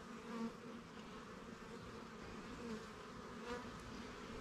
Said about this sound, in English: There's a lot of bees on a frame and the queen's on it.